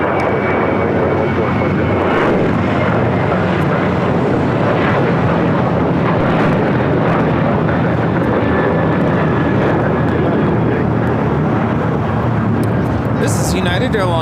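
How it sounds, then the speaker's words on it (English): A United Airlines Boeing 737-800 takes off from LAX for Austin, its engines roaring loud and continuous throughout, with voices intermittently over the thunderous noise. "This is United Airlines 1395 taking off to Austin on a 737-800."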